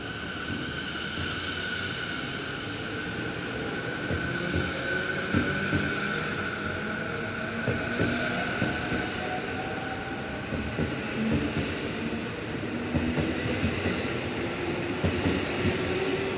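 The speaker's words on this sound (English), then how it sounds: "The 1242 train bound for Kurihama now departing platform number 2." An 11-car commuter train bound for Kurihama pulls away from platform 2 at Hodogaya station in Japan, a steady rumble and wheel clatter with a faint rising whine as it gathers speed.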